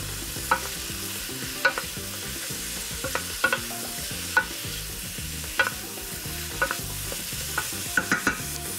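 Broccoli florets sweating in fat in a soup pot, a steady low sizzle broken by repeated sharp clacks and scrapes of a spoon stirring against the metal, close and moderately loud.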